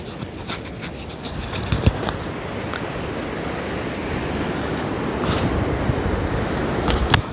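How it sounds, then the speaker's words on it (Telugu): Sea waves wash onto the beach at Vizag, a broad continuous roar of surf with wind noise buffeting the microphone, steady and moderately loud with a few faint knocks, no speech. "బీచ్ ఆడ అలలు, ఆ శబ్దము మీకు వినిపిస్తుందా లేదా చూడండి"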